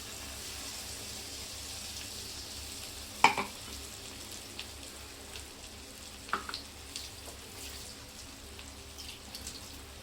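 Ground spice paste for jinghichi bhaji frying in a pan gives a soft, steady sizzle, quiet and close, with a couple of brief clicks of stirring.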